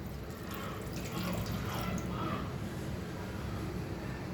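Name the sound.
water being poured into a cooking pot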